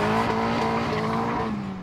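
The Stig's car on a road in Scotland, engine howling loud and close with tires squealing as it drives hard, the sound easing slightly toward the end.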